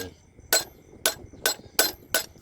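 A hammer drives a steel punch through the center of a 1980 Thai 50 satang coin being made into a handmade ring; six sharp metallic strikes land at a steady, close, loud rhythm with no talking.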